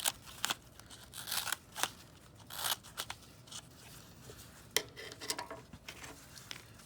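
Scissors snip around the edges of a paper plate hat brim in a library craft session, giving a series of short, sharp crisp cuts in irregular bursts, fairly close and moderately quiet.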